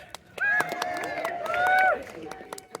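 Crowd cheering and yelling at the Festival of Archery at Warwick Castle, a burst of voices rising and swelling for about a second and a half with sharp claps and thumps around it, fairly close and loud.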